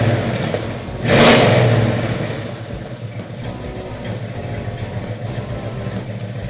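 A 1969 Chevrolet Chevelle SS396 V8 fires up close by with a loud burst of revving, then settles into a steady, rumbling idle.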